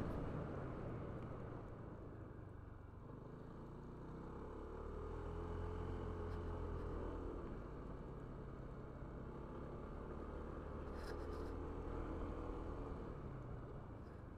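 A vehicle rumbles along a night-time mountain road toward Bromo via Nongko Jajar, Pasuruan, a steady low engine and wind drone that swells slightly as it passes, faint and with no one talking.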